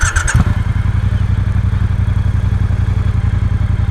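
A Triumph Speedmaster motorcycle engine fires up and settles into a loud, steady idle, close by, with a lumpy, even low thrum throughout.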